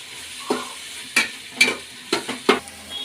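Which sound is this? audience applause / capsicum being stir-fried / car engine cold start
capsicum being stir-fried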